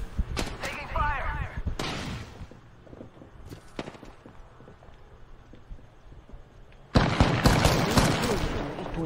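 Gunfire in the video game Apex Legends: sharp shots crack early on, sparse pops follow through a quieter stretch, and then a loud, sustained burst of fire closes it out, with voices at times.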